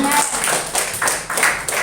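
A church congregation at a New Year worship service claps together in praise, the sound loud and close with uneven bursts of clapping.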